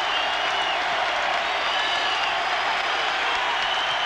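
A college basketball arena crowd in 1991, Duke Blue Devils at Arizona Wildcats, roars and applauds in a dense, steady wall of cheering with a murmur of voices underneath.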